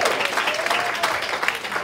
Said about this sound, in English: But let's give her our applause, please